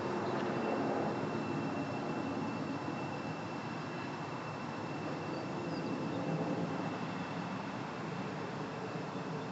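A passenger train on the East Coast Main Line runs through Hatfield station, a continuous broad rushing rumble held at steady loudness for the whole stretch, with no voices.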